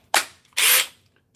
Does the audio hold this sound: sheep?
no